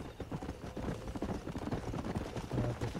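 Horse hooves clip-clopping in the Red Dead Redemption video game, a quick, continuous drumming of hoofbeats from a herd of horses at a steady gait, close and even, with no voices.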